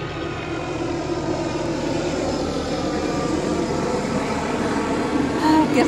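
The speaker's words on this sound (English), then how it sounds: "There's a helicopter." Steady droning rotor and engine noise from a helicopter passing overhead, continuous and moderately loud against outdoor ambience.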